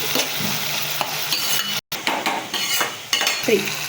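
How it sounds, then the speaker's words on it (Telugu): Tomatoes added to onions frying in a pan, a steady sizzle broken by clattering stirs and utensil knocks against the pan, with one brief cut-out midway. "టమాటోస్ కూడా వేసుకుందామండి ఇది కొంచెం బాగా వేగాలి"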